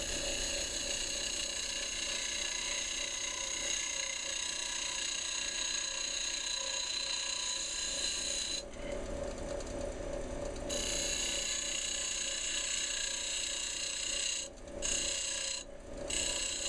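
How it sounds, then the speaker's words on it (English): A wooden guiro spins on a woodturning lathe under a shearing cut, giving a steady mechanical whirr with a continuous ratcheting texture and short bursts of scraping. "I'm just doing a shearing cut now"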